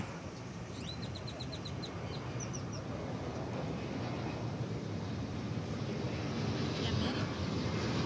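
A jet departing DFW Airport, a broad steady roar that swells gradually over several seconds, with faint bird chirps early on and wind rumble across the microphone.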